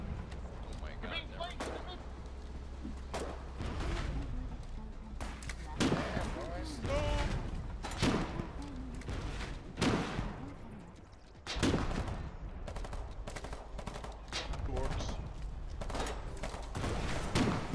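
Gunfire in the war video game Foxhole during an assault on a border base: repeated loud volleys and bursts of shots, some near and some distant, with players talking over the battle.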